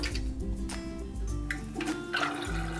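Wind-up toy race cars churn and splash through water in a tank, a busy whirring and sloshing with faint mechanical ticking, close and moderately quiet, with no talk.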